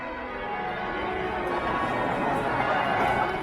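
Bells ring out over an outdoor climate action rally in Sydney, a sustained, resonant chime layered over a continuous murmur of crowd noise.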